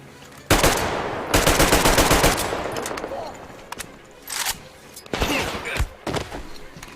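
Rapid automatic gunfire in a video game comes in two long, loud bursts, followed by scattered single shots and shorter volleys, with a voice talking among them.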